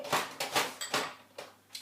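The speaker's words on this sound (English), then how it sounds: "I've locked my dogs out this evening, so they're trying to get into their dog flap" Dogs pushing at a closed, locked dog flap, making a series of irregular knocking, rattling bumps, fairly faint and close, with about six clattery impacts in under two seconds.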